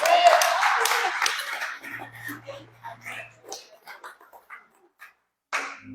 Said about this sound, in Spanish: Dale un aplauso al Señor Jesús.